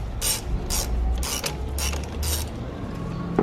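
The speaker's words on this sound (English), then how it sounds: "we just need to undo that bolt a little bit because it clamps as it pushes down" A wrench ratchets in several short clicking bursts while loosening the negative battery terminal clamp bolt on a 2014-2019 Kia Soul, close and fairly loud, with no talking.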